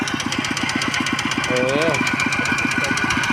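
A small tractor runs in a flooded field, its engine knocking in a fast, even chug that stays loud and close throughout, while a voice talks briefly over it.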